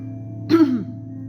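A single short cough, close and fairly loud, with a low steady hum underneath.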